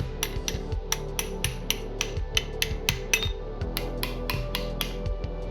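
Freeze plugs are hammered out of a Saab V4 engine block with a run of sharp, metallic blows at a fairly steady rhythm, close and loud, with a scraping clatter between strikes.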